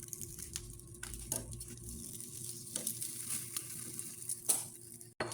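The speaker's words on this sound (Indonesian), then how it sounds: "Kita panggang, masukkan satu persatu." Quiet, steady sizzling from rice parcels grilling in a pan, with occasional crackles and soft scraping taps, close up and without talk.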